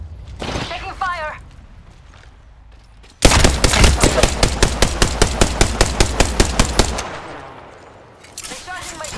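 Rapid automatic weapon fire in the battle royale shooter Apex Legends: a loud, steady stream of evenly spaced shots lasting about four seconds, with brief voice callouts before and after the burst.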